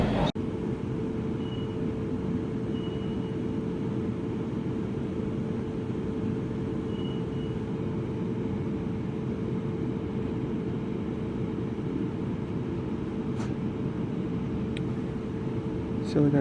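A class 444 electric train pulls out of Basingstoke, heard from on board as a steady low rumble with a faint constant hum and no let-up.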